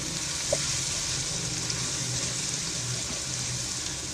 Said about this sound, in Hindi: 1 से 2 मिनट इसको फ्राई करेंगे।